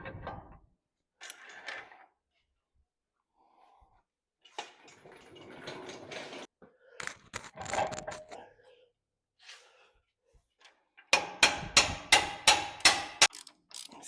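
A pin being worked into the bottom of a 1926 John Deere Model D tractor engine gives scattered metallic clanks and ratcheting clicks, closing in a loud run of rapid, evenly spaced knocks. There is no talk.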